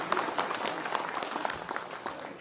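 An audience at a farmers' thank-you rally in Dehradun claps, a moderate, steady patter of many hands heard from a distance, with faint crowd murmur underneath.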